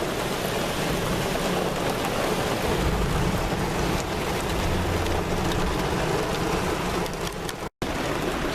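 Heavy rain pours down steadily in a dense, unbroken wash that is loud and close throughout, with no voices heard.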